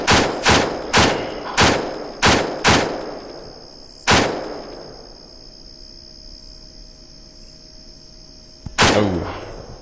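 Sharp rifle shots in ARMA 2 ring out in a steady series of about seven close, loud reports, each trailing into a long echo, with a gap before a final burst of shots near the end.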